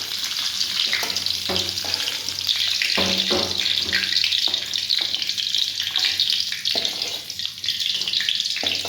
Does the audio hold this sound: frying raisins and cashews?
yes